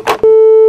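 A short burst of noise, then a single steady electronic tone holds for about half a second and cuts off, like a phone line going dead after hanging up.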